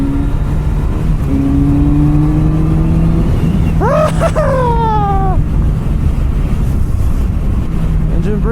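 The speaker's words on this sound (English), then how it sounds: "Engine braking." A Kawasaki Z900 RS Cafe motorcycle engine brakes downhill on a Kings Canyon road, a steady low engine drone under strong wind rush, with a short sweeping rise in pitch partway through.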